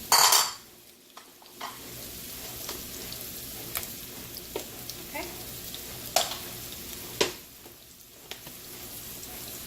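Mushrooms frying in hot oil in a pan, a steady soft sizzle running throughout with occasional stirring scrapes and clinks, heard alone without talk.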